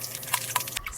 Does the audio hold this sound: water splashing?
yes